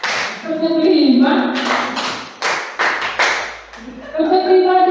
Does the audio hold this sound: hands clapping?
yes